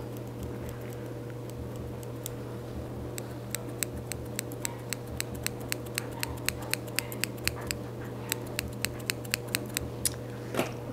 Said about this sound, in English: So we will use the scissors sometimes, depending on how thick it is